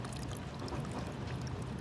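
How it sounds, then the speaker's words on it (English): Water gushes and sprays steadily from a leaking capsule valve, a dense hissing pour with no pauses, heard alone in a tense animated lab scene. "Water's leaking from the capsule!"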